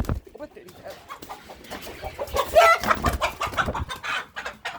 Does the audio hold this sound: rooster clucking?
yes